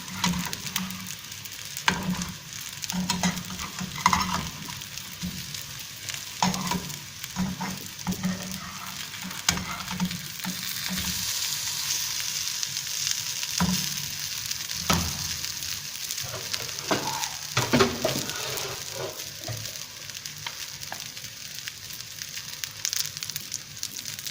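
Kebabs fry in ghee with a steady, close sizzle and scattered crackles and spatters, while stirring clinks now and then, with no talking.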